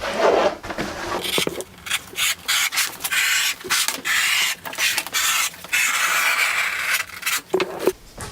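Leather for a custom belt being cut into a strip, heard as a series of close, repeated rasping, scraping strokes with brief pauses between them.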